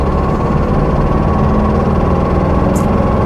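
A Porsche 912 flat-four engine running at a steady drone on a first drive after a blind auction purchase, loud and continuous with a constant low rumble and no talk.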